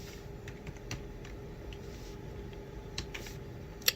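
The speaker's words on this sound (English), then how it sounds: "Wait a second, I'm typing." Keys on a computer keyboard click in a soft, irregular run of taps over a steady electrical hum, with one sharper click at the end.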